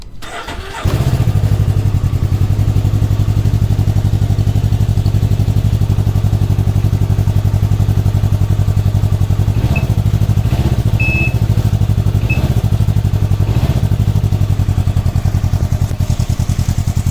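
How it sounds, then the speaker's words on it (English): A Can-Am Ryker fitted with a K&N air filter fires up and settles into a loud, steady, slightly throaty idle that runs close and uninterrupted, with a few faint blips along the way. "now I'm going to start it up with the KM filter and we'll see how it sounds."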